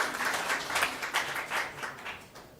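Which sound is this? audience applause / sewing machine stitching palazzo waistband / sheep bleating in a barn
audience applause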